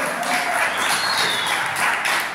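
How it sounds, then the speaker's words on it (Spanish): A party crowd celebrating two women's birthday with a youth mariachi claps loudly and steadily, dense close applause with some cheering voices mixed in throughout. "Fuerte el aplauso para ellas dos que se escuchen"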